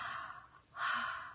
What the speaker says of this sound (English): Ujjayi breathing is like this